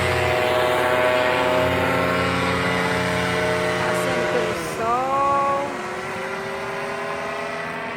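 A paramotor engine drones steadily in flight over Ilha do Mel, Paraná, a loud, close buzzing hum with many layered tones that shifts pitch briefly midway, with faint voices underneath.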